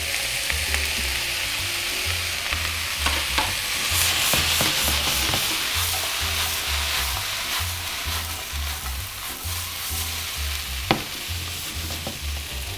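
Mushrooms tossed into a pan with garlic and thyme, frying in a restaurant kitchen, give a steady close sizzle with scraping stirs throughout and a low humming background, with no one speaking.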